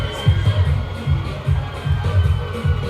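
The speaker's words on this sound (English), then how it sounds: "They're absolutely going wild down here at the Soufrière Mini Stadium" Crowd at a football match at Soufrière Mini Stadium, Anse La Raye against South Castries, roaring and cheering in rhythmic surges, loud and wide, with drumming-like pulses underneath.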